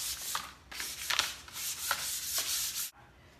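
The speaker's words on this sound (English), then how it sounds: "I'm just smoothing out my paint" A paper bag rubs over painted furniture to smooth the finish, producing soft brushing swishes in an uneven back-and-forth rhythm, close and fairly quiet, ending abruptly.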